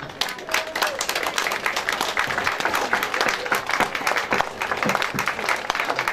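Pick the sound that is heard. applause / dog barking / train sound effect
applause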